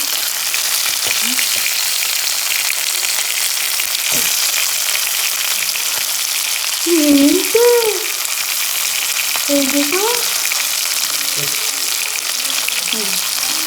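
Chicken leg pieces fry in hot oil over a medium flame, making a loud, steady, close sizzle throughout, with brief faint voices in the background.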